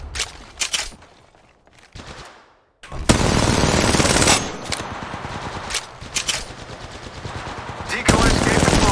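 Bursts of automatic gunfire from the mobile game Apex Legends Mobile, loud close volleys with short pauses between them and a quieter gap near the start, with in-game voice lines mixed in.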